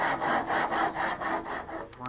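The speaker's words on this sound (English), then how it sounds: "very carefully just start cutting away and see how this comes out" A hand saw cuts into a driftwood tree root in steady, rhythmic strokes, about eight close rasping pulls in quick succession.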